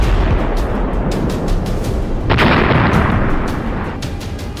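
Heavy rocket strike explosion from a HIMARS hitting a Russian TOS-1A rocket system in combat, a loud booming blast with rumbling low end and a sharper burst midway, then fading roar.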